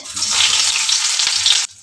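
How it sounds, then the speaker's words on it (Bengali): Chopped onion hits hot oil in a pan and sizzles loudly, a dense close frying hiss that runs steadily and then cuts off abruptly near the end. "তেলটা গরম হয়ে গেছে এবার দিয়ে দেব এর মধ্যে পেঁয়াজ ফোড়ন কুচনো পেঁয়াজ"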